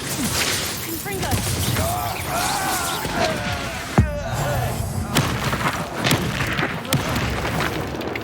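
A Confringo blasting curse goes off in Hogwarts Legacy combat with a sharp booming impact midway, set among game effects, thumps and spoken voices.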